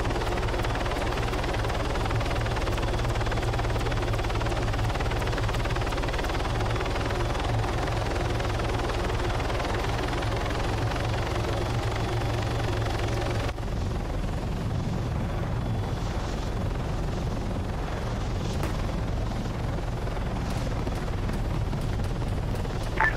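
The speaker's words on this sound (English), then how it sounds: "Sir, we just got buzzed by a helicopter that is most definitely not ours." A video game helicopter drones steadily with a dense rotor thrum throughout. It shifts character midway as it passes close overhead, then continues as a loud, rumbling wash with faint crackles, and no talk.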